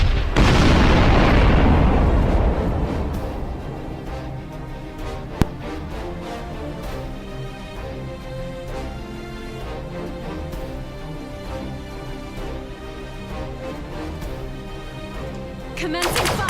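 Space-battle weapon fire and explosions from the Sunrider: Mask of Arcadius game open with a loud booming blast that rumbles away, leaving a steady bed of music and effects with another sharp hit midway.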